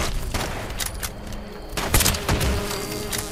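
Gunfire in the video game Fallout 76 cracks out in scattered bursts and single shots over a busy, buzzing game soundscape, with a few sharp louder reports near the middle.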